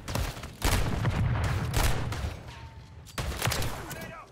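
Shotgun blasts in Modern Warfare 3, heavy booming shots at about 0.6, 1.8 and 3.2 seconds with clattering gunfire between, loud and close amid game noise.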